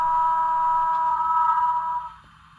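A steady, sustained whistle tone from a Bachmann Transcontinental Railroad 150th Anniversary set model locomotive, holding for about two seconds and then cutting off, with a faint electronic hum underneath.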